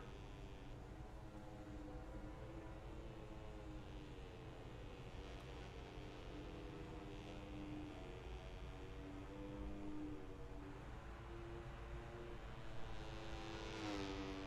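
Motorbike engines in the MotoGP 19 video game at Silverstone, on the final lap, drone as a continuous buzzing whine with shifting harmonic tones, steady and fairly loud throughout, swelling slightly near the end.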